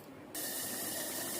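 A little water pours into cooking moong dal, a sudden rushing splash-hiss that starts after a brief quiet moment and continues steadily, close by.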